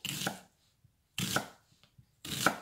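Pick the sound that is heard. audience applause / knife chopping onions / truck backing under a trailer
knife chopping onions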